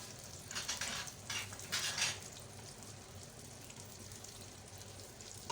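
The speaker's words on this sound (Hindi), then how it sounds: "ये मेरे पास है नट्स, ये मैंने फ्राई करूँगी डाल के" Nuts frying in oil in a pot, a steady hiss with brighter bursts of crackling sizzle early on that settle into a constant low fry.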